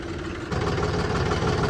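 A farm tractor engine runs at a steady idle close by, a low continuous rumble with an even throb that stays at a constant level.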